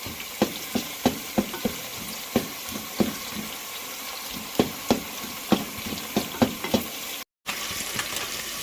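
Meat and onions fry in a pot for chicken biryani, a steady sizzle broken by repeated sharp scraping clicks of a spoon stirring at close range, with no voices.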